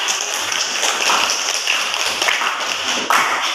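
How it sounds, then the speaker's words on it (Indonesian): A classroom of students applauding a classmate named Nazira, a steady, dense patter of many hands clapping together at close range, continuing evenly throughout. "Berikan aplaus dulu untuk Nazira"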